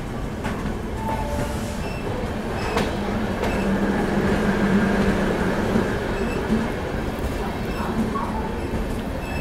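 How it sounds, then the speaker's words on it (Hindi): An Indian Railways Duronto train, Mumbai–Howrah service, rolls into a long station platform with a steady low rumble of wagons, rattling wheel clatter and faint squeals throughout, heard from on board and fairly loud. "अभी हमारी ट्रेन देखो प्लेटफॉर्म एंटर कर रही है"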